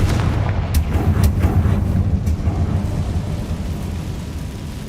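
A Confringo fire spell from Hogwarts Legacy bursts in a deep booming explosion with a few sharp cracks early on, then a rumbling tail that fades over several seconds.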